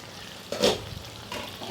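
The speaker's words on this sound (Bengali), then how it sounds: "তাকে ভালো করে একবার নেড়ে দিচ্ছি তা নাহলে তলায় লেগে যাওয়ার ভয় থাকে" Chicken cooked with spices is stirred in a pan after the lid comes off. A short burst of scraping and sizzle is followed by a second, softer stir over a low background hiss.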